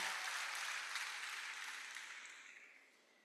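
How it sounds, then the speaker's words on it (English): Applause from a matriculation ceremony audience for the JAMB state coordinator's representative, a dense wash of clapping that fades away steadily, with no voices. "Can we please give him a round of applause?"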